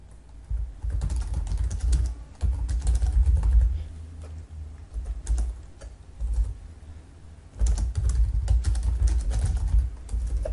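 Fingers tap out a message on a computer keyboard in quick, irregular bursts of close clicking, pausing briefly between runs of keystrokes, with no voice over it.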